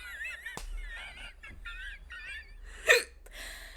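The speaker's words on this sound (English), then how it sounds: "I gotta get rid of these hiccups" Repeated hiccups punctuate quiet, airy squeaky vocal sounds, a few sharp individual hiccups spaced over several seconds, close to the microphone.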